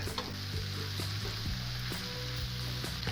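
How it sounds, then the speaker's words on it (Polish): Mushrooms sizzle and fry in a pan over glassy, softened onions for a Christmas Eve mushroom soup, with a steady close hiss and a few soft scrapes and clicks from stirring. No one speaks. "więc teraz dorzucamy grzyby. Podsmażając, podbijemy im troszeczkę aromat."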